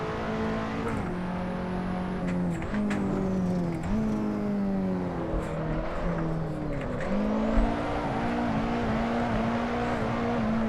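A KTM X-Bow drifts around Silverstone in the Assetto Corsa racing game, its engine droning steadily and rising and falling in pitch as the throttle is worked through slides, with a faint tire whine above, close and continuous.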